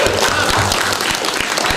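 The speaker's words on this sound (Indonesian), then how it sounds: "Tepuk tangan." A conference audience at a radio summit bursts into brief, loud applause, dense clapping from many hands that stays close and full for under two seconds.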